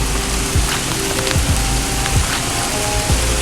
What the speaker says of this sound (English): It's hailing and raining